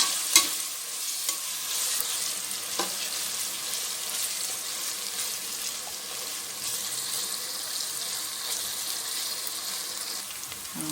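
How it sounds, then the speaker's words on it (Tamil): Onions frying in oil for a Karaikudi biryani, stirred continuously, giving a long, even sizzle with occasional sharp scrapes of a spoon against the pan, moderately close. "கொஞ்சம் நல்லா வெங்காயம் செவக்கிற வரைக்கும் வறுக்கணும்"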